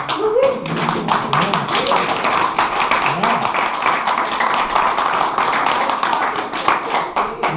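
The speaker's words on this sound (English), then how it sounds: "one member of a couple clapping and the other not" A comedy club audience claps in steady, fairly close applause made of crisp, evenly spaced claps that carries on for several seconds, with a voice speaking over it now and then.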